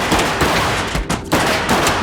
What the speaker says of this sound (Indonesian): Tak lama kemudian terdengar suara beberapa tembakan.